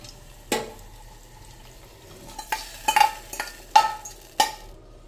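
Tempering stirred into jowar rava pongal, soft wet stirring and several distinct spoon knocks and scrapes against the pot, close by, with no talking.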